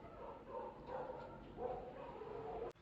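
Dogs bark repeatedly in the distance on an early morning in Manali, a scattered series of faint, far-off barks and yips against quiet background hum.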